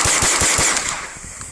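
A pistol fires a magazine of Stinger ammunition in a rapid string of loud, close shots about 0.2 seconds apart, each with a sharp crack and ringing echo that fades over the last half second.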